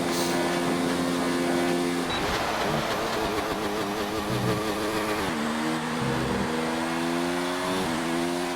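A GP2 race car engine screams at high revs, dropping sharply with each gear change in a rapid sequence of shifts, loud and close throughout.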